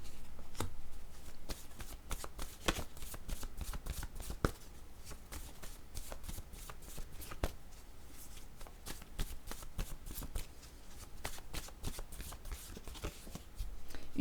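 A deck of oracle word cards is shuffled by hand over and over, giving rapid rhythmic bursts of papery riffling and slaps. The sound is close and fairly quiet, with no voice over it.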